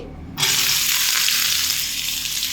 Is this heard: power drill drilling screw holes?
no